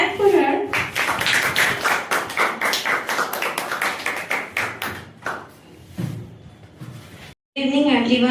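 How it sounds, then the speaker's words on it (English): Audience clapping at a speaking competition event, a burst of quick hand claps that thins out to scattered claps before a voice begins speaking. "Clap for her."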